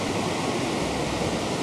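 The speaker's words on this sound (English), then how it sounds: "See the water crossing." Steady broadband rush of a mountain stream crossing a high pass road on the Baralacha La route, loud and close, continuous with no voices.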